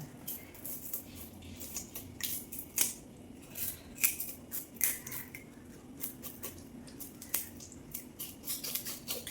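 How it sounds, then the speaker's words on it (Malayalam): A knife scrapes scales off a pearl spot fish in a kitchen, giving a close, quiet series of rapid, uneven rasping scratches and clicks that continue steadily without talk. "മുകളത്തെ ചിറക് ആദ്യമേ ആ സൈഡിൽ നിന്ന് ഇങ്ങനെ ചിരണ്ടിയാൽ പെട്ടെന്ന് ഇറക്കും"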